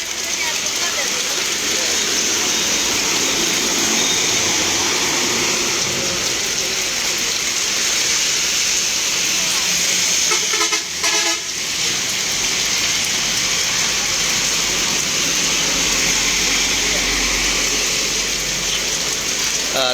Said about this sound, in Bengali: ভারী বর্ষণ হচ্ছে এবং ঘণ্টাব্যাপী কিন্তু এই বৃষ্টি হচ্ছে